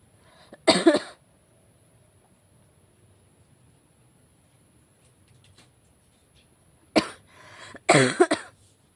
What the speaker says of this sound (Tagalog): Umuubo pa rin ako mga kaiba.